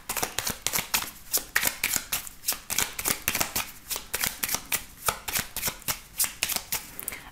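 A 32-card deck is shuffled again and again, the cards riffling in a steady run of crisp, close flutters that repeat roughly every third of a second with no voices.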